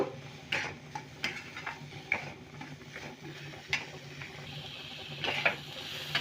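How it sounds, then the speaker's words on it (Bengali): A salted vegetable cutlet mixture is stirred in a pan over low gas, giving quiet, irregular scrapes and sharp utensil clinks against the pan, with no voices. "এগুলা খানিক্ষণ ভালোভাবে নেড়ে নেব"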